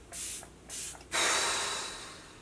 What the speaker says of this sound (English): So it's an up to 24-hour makeup setting spray.